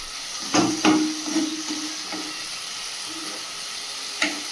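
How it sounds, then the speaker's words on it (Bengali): Okra and potatoes frying in a pan with a steady soft sizzle, broken by a few clattering stirs and scrapes of the spatula, heard close up with no talking. "ভেন্ডি আর আলু ভাজা করছি"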